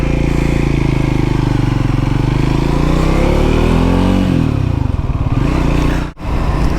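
Triumph Scrambler 400X motorcycle on the move, a loud, close single-cylinder engine drone that rises and falls through gear changes, with heavy wind rush throughout and a brief dip near the end.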